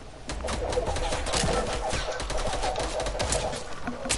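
Sustained rapid gunfire rattles without pause for several seconds as a player shoots into a bush in a video game, loud and dense with crackling echoes.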